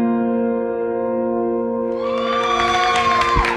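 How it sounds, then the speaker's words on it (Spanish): Cheers, whoops and applause from a TV studio audience at a Soy el Mejor elimination show surge in after about two seconds of steady sustained music, growing loud and busy over the music bed. "Y con el aplauso de la platea"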